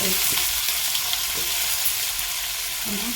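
Onion tossed into hot oil already holding cumin and mustard seeds, frying with a steady close sizzle that runs unbroken from start to end, with no talking over it.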